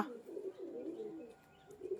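Several pigeons on a loft roof coo in soft, low, rolling phrases, with a few close coos repeating through the moment and no talking.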